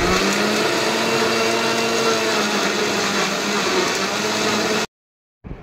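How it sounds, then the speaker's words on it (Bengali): A blender whirs loudly and steadily while blending watermelon for juice, the motor roaring for several seconds before cutting off abruptly, then a brief restart burst at the end. "এবার ব্লেন্ড করে নিয়ে সপরিবারে সবাই মিলে এই তরমুজের জুস নেব"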